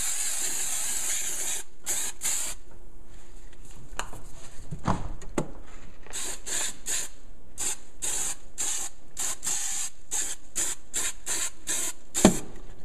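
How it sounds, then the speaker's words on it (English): Spray glue comes from an aerosol can in a run of short, sharp hissing bursts, close and distinct, some spaced apart and others in quick succession. "You're just going to spray right over those."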